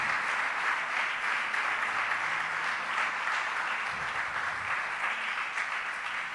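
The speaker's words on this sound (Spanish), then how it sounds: "Le da un aplauso de gratitud a Él por eso." A church congregation applauds in gratitude, a steady, even wash of many hands clapping at a distance, sustained without a break for several seconds.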